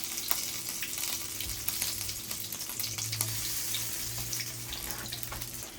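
Food dropped into hot oil for beef enchiladas sizzles with a steady crackling hiss, fairly faint, under a low background hum, with no speech.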